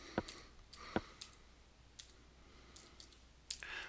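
Sparse keyboard typing and mouse clicks at a computer while entering a spreadsheet frequency formula, a few sharp isolated clicks spaced over a quiet room, close and soft.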